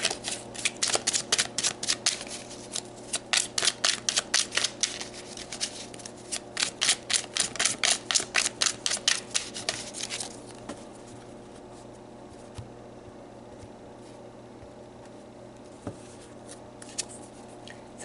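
Tarot cards riffled and shuffled by hand in a quick run of crisp, rapid flutters for about ten seconds, then a few isolated soft taps and handling sounds over quiet room tone.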